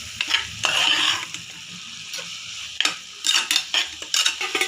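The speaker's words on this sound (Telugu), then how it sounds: "బాగా మిక్స్ చేయండి." A spoon scrapes and stirs amaranth leaf tomato curry in a pan, seasoned with salt and chili powder, giving several irregular bursts of clatter and scraping over a faint sizzle, close and fairly loud, with no talking.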